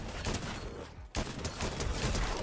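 A semi-auto DMR rifle fires in a video game, giving dense crackling shots that fill the stretch. A brief gap near the middle breaks the firing before it resumes, and no one talks.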